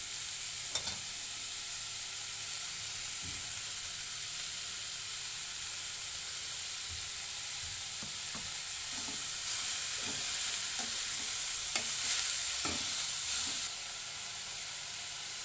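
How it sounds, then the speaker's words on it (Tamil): Shredded cabbage stir-fried in a hot pan for Tamil-style kodo millet noodles, a continuous close sizzle with scattered clinks and scrapes of stirring, swelling louder for a stretch near the end. "அடுத்தது முட்டைக்கோஸ் போட்டுக்கலாம். போட்டு நல்லா வதக்கணும்."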